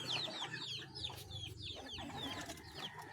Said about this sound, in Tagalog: ang ating mga sisiyo nasa labas na